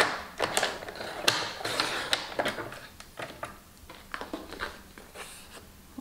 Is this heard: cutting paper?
yes